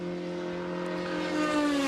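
Race cars on a flying qualifying lap at Road America during the Hoosier Super Tour June Sprints, an engine's steady high-pitched whine holding and rising slightly as it draws nearer, with no voices.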